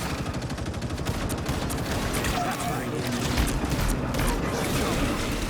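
Continuous rapid gunshots rattle in the Rivals game, a steady stream of automatic fire under a person talking, fairly loud and unbroken throughout.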